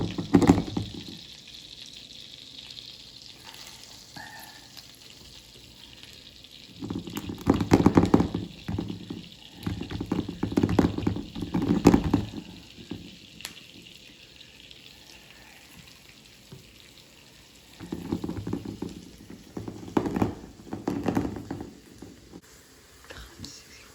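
Flour-dredged chicken cutlets brown in olive oil and butter in a pan, a soft, continuous sizzle that swells in louder bursts as pieces are moved, with quiet talk at times.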